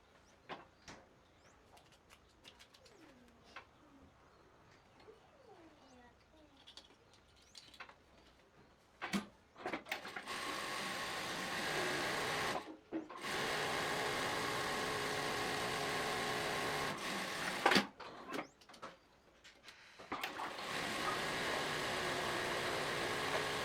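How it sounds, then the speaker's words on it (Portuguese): Straight-stitch sewing machine stitching a fabric bias strip, running in a few sustained bursts with brief pauses between them, steady mechanical whir at close range with no talk. "eu vou na máquina reta para fazer esse viés aqui para cortar os passantes"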